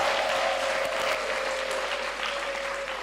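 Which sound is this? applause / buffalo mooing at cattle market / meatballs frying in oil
applause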